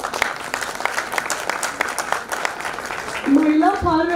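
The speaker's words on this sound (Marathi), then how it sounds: "खरोखर जोरात टाळ्या वाजवा." Audience applause at a women's recognition event held by a GST department in Pune, sustained clapping from a sizable crowd, fairly loud and steady, with a few tonal sounds breaking in near the end.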